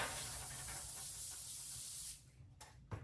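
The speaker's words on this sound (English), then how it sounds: "spray the pan with some spray oil stuff" Cooking spray oil hisses in a steady burst onto a foil-lined baking pan for about two seconds, then cuts off, followed by a couple of soft handling sounds.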